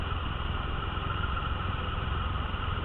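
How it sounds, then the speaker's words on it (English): A Triumph Rocket III Touring with its 2300cc inline three-cylinder engine idles in a steady, deep, even rumble that stays close and constant without any revving, with no voices. "2300cc inline 3-cylinder engine"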